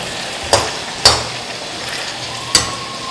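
Tomatoes frying for beef kadai give a soft continuous sizzle in a pan, broken by three sharp scrapes or clinks of a spatula against the pot.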